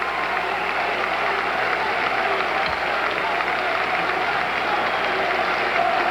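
Sustained applause and cheering fill a large convention hall as Democratic National Convention delegates in 1988 nominate Governor Michael Dukakis by acclamation, a dense, steady roar with no pauses.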